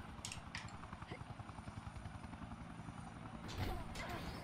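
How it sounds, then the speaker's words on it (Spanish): Helicopter rotor in the WWE 2K Battlegrounds video game, a steady low chopping thump running throughout at moderate level, swelling louder near the end, with a voice talking over it. "¿Y ese helicóptero qué hace ahí,"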